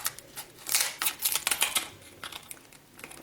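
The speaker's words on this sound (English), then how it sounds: "My tiny little scissors here." Small scissors cutting through a cooked lobster's shell, giving irregular crisp snips and crackles that come in quick clusters, close and moderately loud, with no talking.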